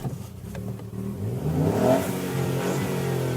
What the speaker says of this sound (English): To get an engine note that warbles and fizzes impatiently, with a few exhaust pops and crackles thrown in for good measure.